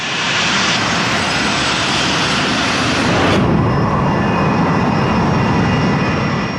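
A Delta Airlines airliner, flight 191, roars loudly and continuously as its engines drive it toward the airport, a dense steady rumble with a slight shift in tone midway.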